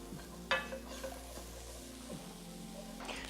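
Cauliflower rice fries in a pan with a quiet, continuous sizzle, broken by a sharp utensil clink near the start and soft stirring scrapes throughout, close by and low in level.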